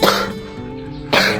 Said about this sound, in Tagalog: Inuubo ang cameraman